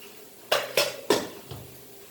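A metal utensil strikes a pan while coriander, cumin and turmeric powder for egg bhurji are being fried, three sharp clanks in quick succession followed by a softer fourth over a faint background.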